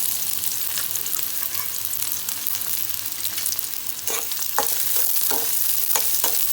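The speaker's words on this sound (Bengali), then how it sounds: "তেল গরম হওয়ার পর পেঁয়াজ দিয়ে দিলাম।" Sliced onions sizzle in hot oil in a pan for bitter gourd stir-fry, a continuous close hiss with occasional sharper crackles and stirring scrapes toward the end.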